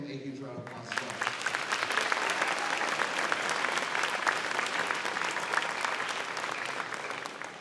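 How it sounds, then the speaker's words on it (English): At an elementary school beginning band concert, the audience bursts into a dense round of clapping after a short spoken lead-in, and the applause holds steady and full for several seconds. "let's give him a huge round of applause as well."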